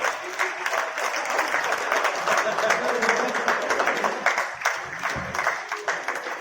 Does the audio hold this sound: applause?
yes